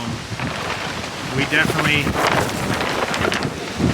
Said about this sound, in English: And this wind, hopefully this dies down as the day goes on here.